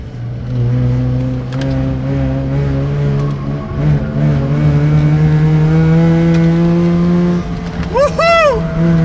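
A Mazda RX-7 FC rotary-engined car pulls hard up a mountain road, its engine droning loud and steady from inside the cabin, pitch climbing and falling between gears, with a brief whoop of a voice near the end.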